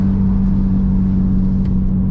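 Straight-piped Porsche 911 Turbo cruising with the windows down, a loud, steady low exhaust drone with a constant deep hum and no revving, heard close from inside the car.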